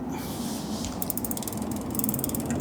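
A ratcheting tool clicks in quick bursts while the backing nut of a Bike Friday adjustable chain retainer is fitted, close and fairly quiet, with denser clicking near the end.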